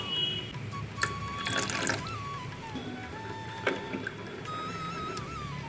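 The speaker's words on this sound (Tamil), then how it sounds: "இப்போ இன்னும் கொஞ்சம் கூட தண்ணி சேர்த்துக்கலாம்" Water pouring and splashing into wheat flour dosa batter, with light clinks and stirring sounds, fairly quiet and continuous.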